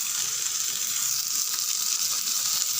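Dried red chillies frying in oil in a pan for garlic tomato chutney, a steady, even close sizzle with soft crackle running unbroken and alone.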